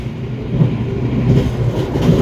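The Taksaka express train runs straight through Kunto Harjo station without stopping, giving a steady, close rumble of wheels on rail with a faint clickety-clack under it.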